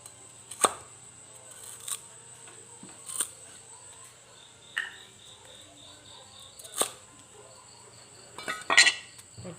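Sharp, separate knife chops through lemongrass on a cutting board, about six spaced strikes with a quick cluster at the end, quiet and close.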